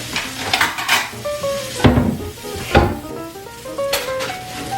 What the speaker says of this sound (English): let's just keep whisking this up